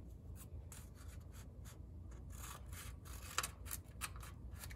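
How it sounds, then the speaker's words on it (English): Scissors snipping through folded paper to make a paper snowflake, a series of short crisp cuts and rustles, close and fairly quiet, with no talking. "we're gonna make some lines with our scissors. We're gonna cut 3 lines on each side"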